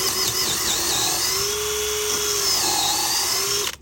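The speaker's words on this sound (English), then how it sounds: "So you need to drill your pilot hole relatively deep." Power drill boring a deep pilot hole for a fence insulator on a high-tensile cattle fence, a steady high whine running nearly four seconds with slight pitch shifts as the bit bites, close and loud, then stopping abruptly.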